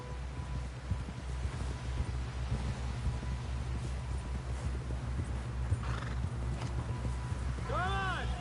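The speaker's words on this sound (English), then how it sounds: "Someone help John down off this horse." Horse hooves gallop in a steady, rhythmic clip-clop in Red Dead Redemption 2, with a loud whinny near the end over light wind.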